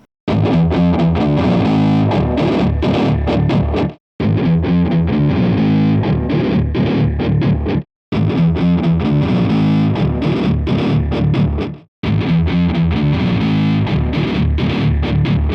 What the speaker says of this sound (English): Here's a change up to some of the other distortion patches I found that sound kinda workable.